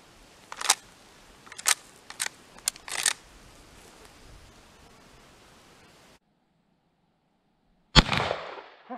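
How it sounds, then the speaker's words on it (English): A single sharp gunshot from a 135–140-year-old Whitney Kennedy rifle in .44-40, fired at a target outdoors, cracks loudly near the end after a few soft mechanical clicks and a stretch of silence. "we'll put about 5 rounds in this 44-40 and just see if we can't hit a target with it"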